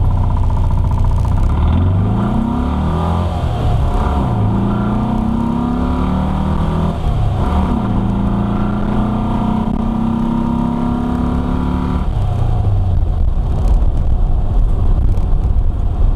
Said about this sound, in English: that 1641 is woken up now.